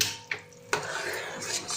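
Sugar syrup with a pinch of food colour being stirred in a pan, a couple of sharp metallic clinks of a spoon against the pan followed by soft scraping and swirling, close and moderately loud.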